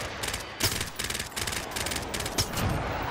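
Rapid automatic gunfire in the video game Warzone, a dense string of close, loud shots with brief gaps over a constant game background.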